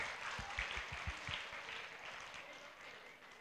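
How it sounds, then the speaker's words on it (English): A small audience at a lower school chapel gives brief, soft applause for a child singer, a few distinct claps up front blending into a faint, thin patter. "Y'all give him a hand of applause"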